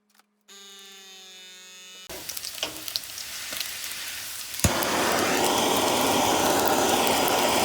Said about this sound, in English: I'm just gonna throw that in the skillet when I sear this one off.